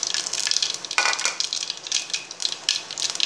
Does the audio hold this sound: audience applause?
no